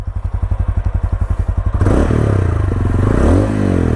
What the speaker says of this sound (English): This motorcycle has got a unique sounding exhaust apart from those other bikes in the single cylinder segment.